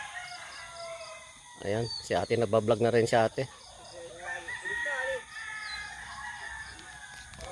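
Backyard chickens around a home, with a rooster giving a loud, near crow in a burst of stacked calls and scattered clucks afterward, over a faint insect hum while a person speaks briefly.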